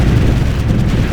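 Loud, rumbling explosion in the real-time strategy video game Ground Control 2, a dense low boom that fills the moment without any speech.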